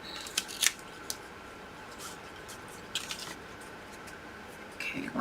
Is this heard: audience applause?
no